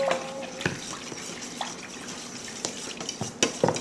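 A spoon stirs baking soda and dish soap into hot water in a bowl, giving soft swirling water sounds with light clinks against the bowl, close and quiet.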